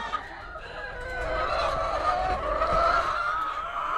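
Backyard pet chickens, a first batch of laying hens, clucking and murmuring at close range in a steady, overlapping flock chatter, with no one talking.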